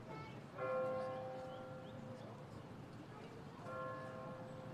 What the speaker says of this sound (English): there is our church bell from across the street telling us it is 3 o'clock in Hattiesburg